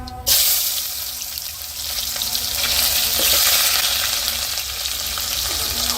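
Chopped onions hit hot oil for a village-style fish curry, bursting into a loud, bright sizzle that swells and holds steadily with soft stirring beneath.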